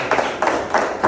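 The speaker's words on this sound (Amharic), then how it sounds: "አጨብጭቡ ብትወዱ" A church congregation at an Ethiopian service claps in slow, measured unison, four distinct group claps spaced about a third of a second apart, close and fairly loud with no talk over them.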